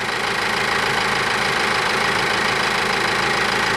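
A Ford Focus engine, running with a slight misfire after replacement and timing work, rumbles steadily and loudly at close range with a rough, uneven knock throughout and no talk.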